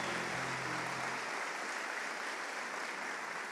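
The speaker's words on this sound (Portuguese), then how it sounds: "aplauda ao Senhor" Congregation applauding during a church service, a broad steady patter of clapping heard at a distance and fairly quiet, fading slightly toward the end.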